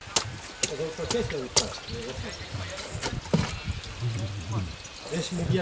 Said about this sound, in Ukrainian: Коли почали її розрізати, зсередини вдарив струмінь чистої води.